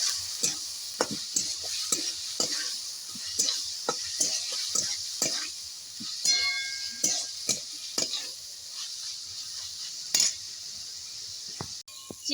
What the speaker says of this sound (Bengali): জিরের গুঁড়ো, লঙ্কার গুঁড়ো, দিয়ে ভালো করে চিকেনটা একটু কষিয়ে নেব